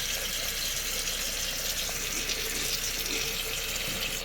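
Water runs steadily from the hot side tap of a travel trailer, a constant close hiss and splash into the sink with no pauses or voices.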